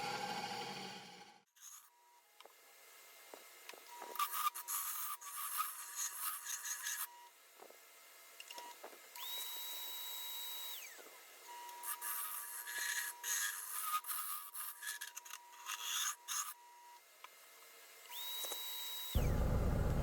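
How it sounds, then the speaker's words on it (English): A hand scraper works the inside of a wooden piece in repeated rasping strokes, bursts of dry scratching separated by short pauses, close and fairly quiet. "After I finish smoothing out the inside of this, just getting as smooth surface as I can with the scraper"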